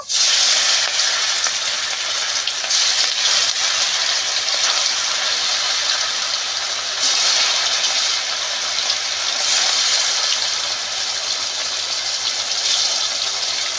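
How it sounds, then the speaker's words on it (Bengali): Pieces of silver carp fry in hot oil in a kadai, giving a loud, steady, close sizzle that runs unbroken throughout with small surges, and no one speaks. "মাছগুলো একে একে ভেজে নেব।"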